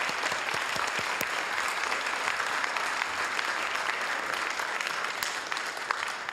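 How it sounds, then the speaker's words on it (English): A round of applause in a city council meeting chamber, moderately sized and even, with individual sharp claps standing out from the steady patter for the whole stretch. "Let's give Ivan a big round of applause."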